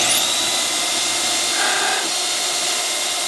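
A bandsaw cuts through an iron baluster, giving a loud, high, steady whine that rises at the start and holds, with a brief grinding change partway through.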